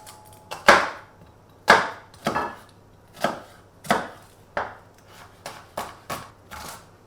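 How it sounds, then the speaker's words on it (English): Onions chopped with a knife on a chopping board while making beef bourguignon, heard as about a dozen sharp, close knocks in an uneven rhythm with quiet pauses between, and no talking. "I'm going to finally chop my onions next."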